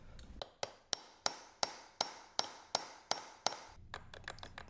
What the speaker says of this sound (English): I'm gonna try to hammer this onto there and see if I can get it broken.